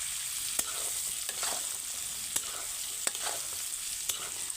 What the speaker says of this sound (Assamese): ধুনীয়াকৈ বটি লোৱা মাংসখিনি তেলত দি দিলোঁ।